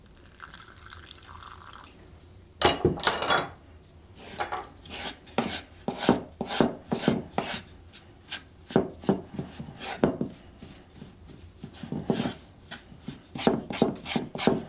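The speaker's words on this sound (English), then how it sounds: "Just like a big loaf of bread, you need to knead it enough that you build the gluten in there" Hand-kneading a small batch of dough at a cabin, a run of soft slapping and squishing presses in an irregular rhythm, close and fairly quiet, with some faint watery background.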